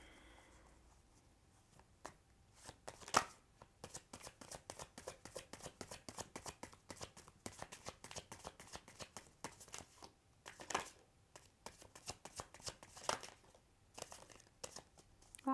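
Tarot cards being shuffled by hand, with soft riffling bursts and flicks that repeat irregularly across the clip, close and quiet, with no talk.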